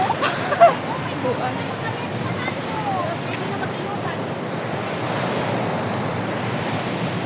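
Waves wash onto the shore at Tap Mun island in Hong Kong, a steady surf rush with wind over the microphone while people talk nearby.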